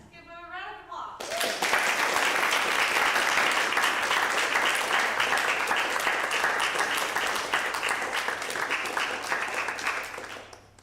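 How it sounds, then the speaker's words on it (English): An audience at a music forum breaks into sustained applause welcoming a solo pianist, with dense clapping that starts suddenly, holds steady for about nine seconds and then fades. "Let's give her a round of applause."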